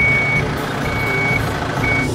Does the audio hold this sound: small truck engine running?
yes